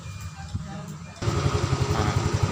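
A motorcycle engine kick-started and catching, a sudden loud rise into a steady pulsing idle after a quieter stretch; the motorcycle has a faulty regulator-rectifier.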